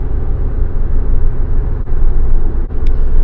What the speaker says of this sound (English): We're driving about 110